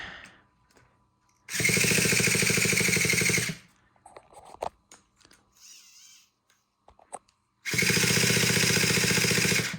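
A Traxxas T-Maxx 3.3 nitro RC engine is spun over by its starter without firing, giving two loud, steady buzzing whirs of about two seconds each, separated by quieter clicks and handling noise.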